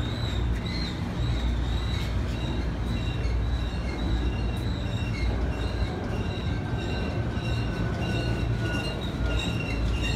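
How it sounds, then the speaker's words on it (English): A CSX freight train rolls past steadily with a loud, continuous rumble of wheels on rail and faint squealing, heard from trackside in the Puget Sound area in December, with no talking. "I hope this train picks up speed, guys."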